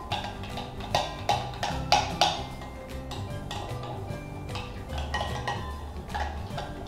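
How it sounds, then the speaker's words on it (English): Homemade slime gets stirred with glitter in a bowl, producing repeated clinking taps and scraping clicks of a utensil against the container, moderately close with no talking. "Now we're going to mix the glitter in."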